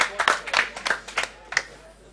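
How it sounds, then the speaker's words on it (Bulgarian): A few people clap in a small gathering for the player Splendour at a StarCraft II gaming event, giving about eight separate, uneven claps over two seconds, fairly close and modest in volume. "вашите аплодисменти за Сплендор"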